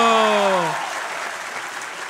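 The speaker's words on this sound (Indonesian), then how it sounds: "kasih tepuk tangan dulu buat Antonius." Audience applause in a public discussion hall in Indonesia, a dense burst of clapping starting right after a speaker's voice trails off and holding steady to the end.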